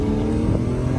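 A modified BMW E46 M3 engine revs loud and close, a dense sustained growl with a slipping clutch, heard from inside the car without talk.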